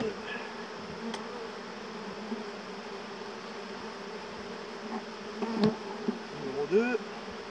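A dense mass of honeybees buzzes steadily nearby as they are transferred from a board into a hive, the drone continuous and close with a few faint knocks and brief voice sounds toward the end.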